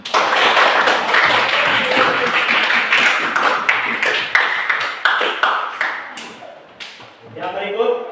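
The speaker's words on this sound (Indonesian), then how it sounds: "Tepuk tangan dulu." Grade IX social studies students clap together in a classroom, a dense burst of overlapping hand claps that thins into scattered claps near the end, with some talking mixed in.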